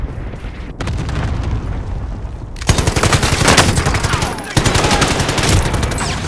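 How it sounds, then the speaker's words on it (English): Video-game gunfire in a fast team shooter match: dense bursts of rapid automatic shots and booming impacts, loud and continuous after a short lead-in, with brief breaks between volleys. "I'm getting shot."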